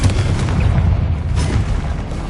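A Confringo fire spell detonating in Hogwarts Legacy, a loud, deep booming explosion with a rumbling low-end roar that sustains and churns for a couple of seconds without any speech.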